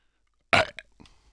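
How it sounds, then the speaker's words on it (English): A single loud, close burp erupts abruptly and then trails off in a couple of shorter gurgling pulses, with silence before and after. "That was a shit burp."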